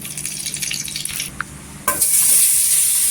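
Gentle sizzling of ghee melting in a pan on a gas stove that swells into a louder, brighter hiss after a sharp onset near the midpoint; close, no voices.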